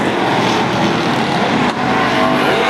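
Race cars roar around the track during the opening lap of the Wildcat 50, a loud, dense wall of engine noise that stays close and steady throughout, with no talk over it.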